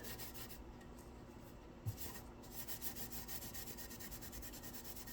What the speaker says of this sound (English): it does scuff it up and get all those fine scratches on there that you need